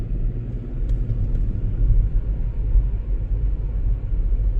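A post office vehicle driving on snowy Minnesota winter roads the day after a winter storm: a continuous low road and engine rumble from inside the vehicle, steady and fairly loud, with no talking.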